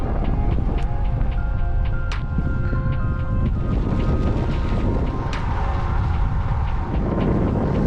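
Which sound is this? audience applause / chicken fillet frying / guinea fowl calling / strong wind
strong wind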